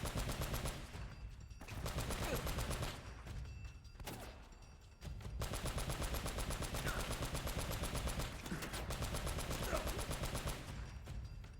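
Enemy gunfire in the video game Uncharted, bursts of rapid automatic shots crackling steadily across the whole stretch with brief lulls, loud and dense like a sustained firefight.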